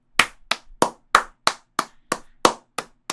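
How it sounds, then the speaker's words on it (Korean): Ten sharp, evenly spaced claps ring out alone, close and loud, each one a crisp isolated smack with no talk in between. "이야, 박수!"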